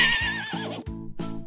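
A cartoon horse neighs in a children's counting cartoon, a high whinny followed by a few short repeated calls, close and loud with no voices.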